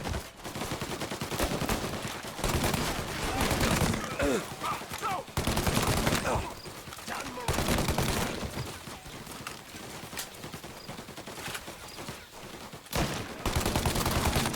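Dense gunfire in the Mafia: Definitive Edition video game shootout, rapid overlapping shots and machine-gun bursts continuing throughout, with shouted voices mixed in.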